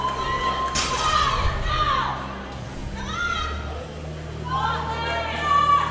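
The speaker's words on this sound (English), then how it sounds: "Listen to the crowd getting wild." Crowd at a drug-tested national powerlifting championship roars and whoops continuously, with shrill shouts rising and falling over a loud commentator's voice as a lifter sets up for a heavy deadlift.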